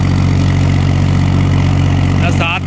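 A 35-horsepower tractor engine idles with a steady, loud, low rumble throughout, and a voice briefly cuts in near the end.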